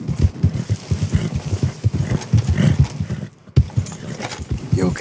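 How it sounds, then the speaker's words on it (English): Horse hooves in the game Red Dead Redemption 2 clip-clop in a quick, steady rhythm close by, pausing briefly before resuming. "Ain't you a good horse?"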